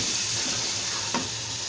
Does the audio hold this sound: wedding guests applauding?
no